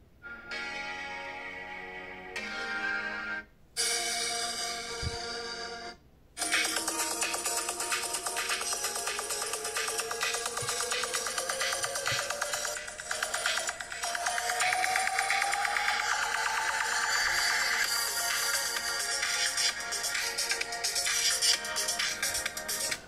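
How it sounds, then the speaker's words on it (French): Audio plays through the single loudspeaker of a Cubot X50 smartphone: short tonal bursts broken by gaps, then a continuous bright, thin melody with a rising sweep and little bass, fairly loud throughout. "On va maintenant écouter le haut-parleur, simple haut-parleur."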